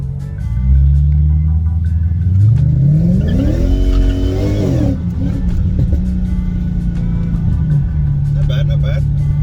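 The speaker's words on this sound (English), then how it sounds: "So I'm gonna launch it in second gear, because first is useless in this car" A car with a ported supercharger and 105mm throttle body launches hard in second gear on a street, its engine revving loudly and rising steadily in pitch before easing off, with talk partly over it.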